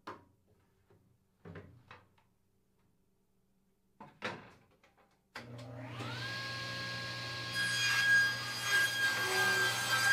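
A table saw set against its rip fence trims a thin eighth-inch strip off a board's edge: after a few quiet knocks, the motor starts abruptly and holds a loud, steady whine that grows harsher as the blade bites into the wood.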